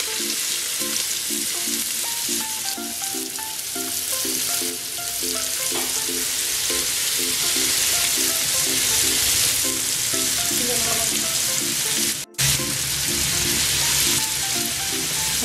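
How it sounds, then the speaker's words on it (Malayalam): Sliced onion frying in a pan for Kerala-style homemade chicken biryani, a steady close sizzle with rhythmic clinks of a spoon stirring throughout and a brief break near the end. "ഇതിലേക്ക് ഞാൻ ഒരു സവാള അരിഞ്ഞിട്ട് ചേർക്കുന്നു"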